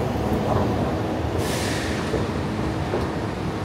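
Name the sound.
MRT metro train at station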